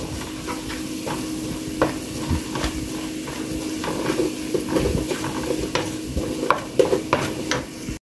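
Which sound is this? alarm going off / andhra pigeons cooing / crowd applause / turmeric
turmeric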